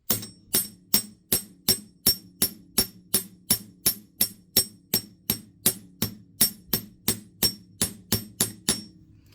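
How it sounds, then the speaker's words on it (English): Steady, evenly spaced hammer blows ring out on wire metal being flared for a wire-wrapped pendant frame, about two to three strikes per second, close and crisp, with no voices. "As I hit the metal, I'm going to pull back a little bit with my hammer to create this nice flaring effect."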